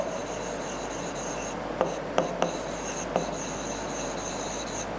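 Marker or chalk writing a number on a board, a faint scratchy rubbing with a few soft taps against a steady background hum.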